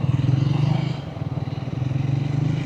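A 400cc motorcycle pulls off in first gear on a city road, its engine a steady, close, throbbing drone with a slight dip and rise in pitch as it moves away.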